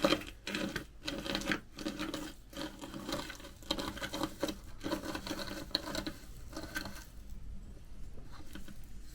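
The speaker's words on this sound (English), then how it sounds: "Now we've got this ballaster that Rob got, and we're just going to go through, letting it go where it goes." Loose ballast trickles from a model railway ballaster onto OO gauge track, a soft, uneven pattering with short gaps, close and fairly quiet, thinning toward the end.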